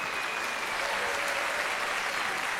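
A studio audience at a French children's television singing show applauds steadily, a dense wash of clapping that stays even and fairly loud throughout with no voices on top.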